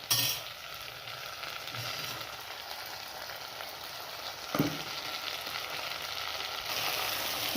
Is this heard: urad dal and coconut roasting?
yes